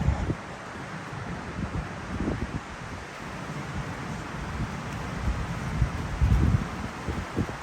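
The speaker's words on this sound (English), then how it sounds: "Getting some loud wind picking up." Strong wind gusts along the Deschutes River Trail near Benham Falls and Dillon Falls. A steady, rushing roar and low buffeting rumble fill the whole stretch, swelling slightly near the end, with no voices.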